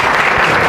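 Loud, close applause from a college seminar audience, a thick continuous patter of clapping hands filling the brief moment.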